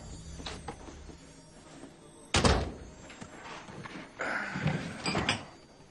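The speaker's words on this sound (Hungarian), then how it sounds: "Son, bezárnád az ajtót?" An office door is shut indoors with a sharp wooden thud, followed by softer knocks and rattling handling sounds, heard alone without talk.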